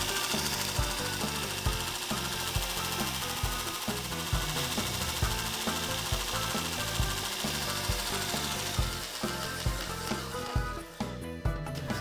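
A Pro Edge sharpener grinding a knife blade, played back at five times speed, giving a dense, continuous buzzing rasp with a fast pulsing chatter, loud and close throughout before easing off near the end.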